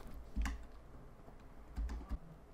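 A few soft keystrokes tap on a computer keyboard while a console command is typed into the shooter game Operation Harsh Doorstop, forming a short, sparse cluster of clicks against a faint background hiss.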